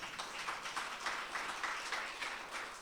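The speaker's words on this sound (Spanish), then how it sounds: "Desen un aplauso por valientes" Applause from a church congregation at a pastor's sermon, a steady patter of many hands clapping in soft repeated pulses, heard at a distance and fairly faint.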